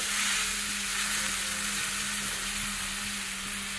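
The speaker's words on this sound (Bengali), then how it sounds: "কি সুন্দর করে মশলাটা বেজে নিলাম" Green chili, ginger paste, cumin, coriander and turmeric fry in hot oil, giving a loud, continuous, even sizzle with no breaks or voices.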